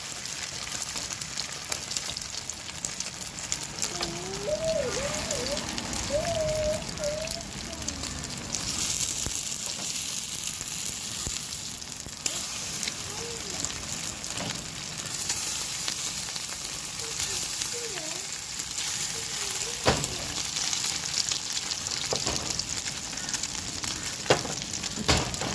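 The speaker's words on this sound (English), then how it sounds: "Fry them golden brown both sides." Potato cutlets stuffed with mince frying in a pan, a dense continuous sizzle and crackle held for the whole stretch, with faint tonal squeaks drifting in and out.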